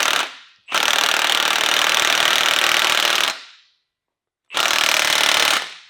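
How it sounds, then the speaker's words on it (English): Impact wrench hammering a nut onto a pinion yoke in a school bus build, two loud sustained bursts of rattling impacts, about 2.6 seconds and then about 1.5 seconds, separated by a brief pause. "we're going to take the impact and we're going to impact this nut on"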